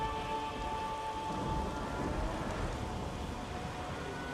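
Stormy weather in The Witcher 3 with thunder and lightning: heavy rain pours steadily while deep thunder rumbles underneath, a continuous wash of downpour with a low roll swelling near the middle.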